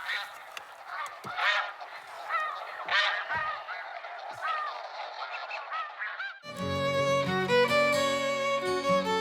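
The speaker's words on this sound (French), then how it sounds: "il reste juste à projeter les bons sons et les oies vont arriver" A flock of snow geese calls in a rapid, overlapping chorus of high honks and yelps during a spring goose hunt in Quebec, then abruptly gives way to loud music.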